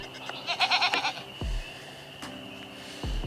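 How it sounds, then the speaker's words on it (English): Baby goats bleating outdoors, a quick run of several wavering, high-pitched bleats up close, then quieter scattered calls with a couple of low thumps. "I have 2 baby goats that are out"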